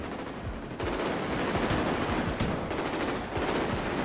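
Rapid bursts of automatic gunfire rattle continuously, with several sharper shots standing out, fairly faint and a little distant.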